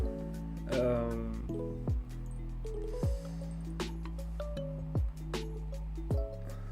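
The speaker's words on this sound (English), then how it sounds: "Oh, in the rustling water." Rustling water in a Pokémon video game set in a forest: a run of watery plopping and dripping blips spaced about a second apart, close and moderately loud over steady low game music, with no talk over it.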